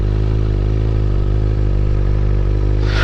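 A motorcycle engine runs steadily and loud close by on a clifftop road, with a constant low drone and a slight rise in pitch near the end.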